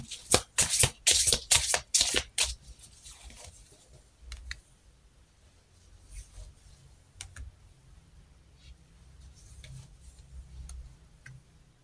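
Tarot cards are shuffled close up in a quick burst of crisp riffles, followed by softer, sparse handling of the deck and faint taps.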